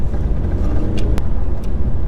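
An Audi A3 2.0 TDI diesel car rounds a bend, heard from inside as a loud, steady low engine and road rumble with no talk.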